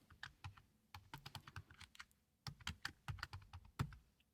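Typing on a computer keyboard, quick irregular clusters of sharp clicks with a brief pause in the middle, close and fairly quiet.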